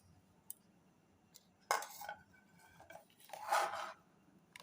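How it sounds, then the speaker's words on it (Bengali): A palm fruit and lime mixture poured onto an oil-greased plate for no-cook palm barfi, two soft scraping, sloshing bursts of thick paste against metal, close and quiet with small clinks between. "এবার সাতেল মাখানো থালার মধ্যে আমি ঢেলে দিচ্ছি"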